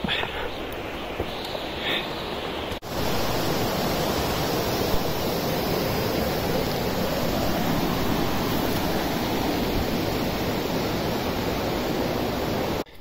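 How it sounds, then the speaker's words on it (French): A river runs steadily near a cave entrance in the Combrières area, a broad, constant rushing wash of water that fills the scene at close range and continues without pause. "La zone de la rivière."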